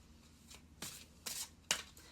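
Tarot cards being shuffled in three quick, crisp riffling bursts with short pauses between, close and fairly quiet.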